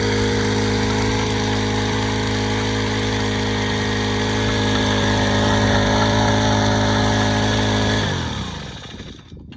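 A small capstan winch engine hauling a boat runs steadily with a loud, droning hum for several seconds, then cuts out and sputters to a stop.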